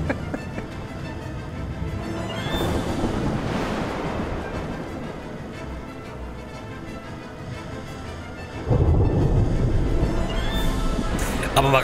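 A storm in the survival game Smalland: Survive The Wilds, a continuous roar of wind and rain-like noise that thickens into a heavier, deeper rumble partway through, with no talking.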